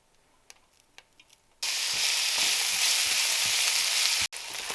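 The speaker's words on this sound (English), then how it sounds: "So we are going to saute the onions first." Onions sizzling and frying in a hot pan for a vegetarian samosa filling, a loud steady hiss that starts abruptly after a quiet moment, drops out briefly, then resumes.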